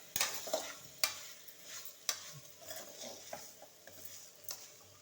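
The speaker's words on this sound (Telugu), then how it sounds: "ఇప్పుడు వీటిని అన్నిటిని చక్కగా కలుపుకుందాము. ముక్కలకు పట్టే విధంగా ఇలా కలుపుకోవాలి." Bitter gourd pieces with spices and ginger-garlic paste are stirred in a sizzling pan, with a spoon scraping and clinking against the metal several times over a steady low frying hiss.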